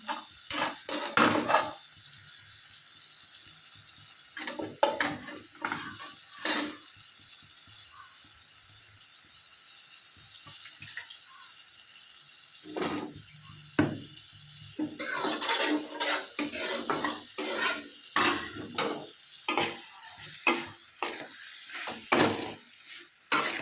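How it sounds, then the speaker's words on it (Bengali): Banana flower and potato being stirred and sautéed in a pan, heard as bursts of spoon scraping and clanks against metal separated by quiet pauses, close and fairly loud, no talking. "আমি মোচাটাকে আলুটাকে ভালো করে কষিয়ে নিচ্ছি।"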